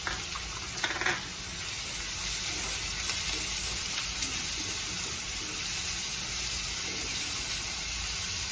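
Chopped onion fries steadily in two spoons of hot oil with mustard seeds and cumin for ran bhaji, giving a dense, even sizzle throughout with a small clink near the start.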